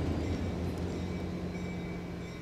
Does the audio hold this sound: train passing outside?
yes